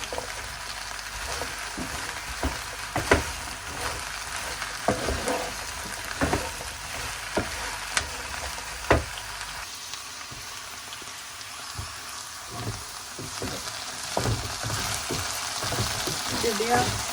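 Okra (bhindi) fries in a kadhai, a constant sizzle broken by frequent sharp clatters and stirring knocks, with brief speech mixed in at times.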